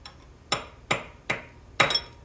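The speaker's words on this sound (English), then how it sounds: "One more little tap. Should become loose." Four sharp metallic taps, evenly spaced, from a tool striking a car's fan clutch to loosen it, close and clear against a quiet background.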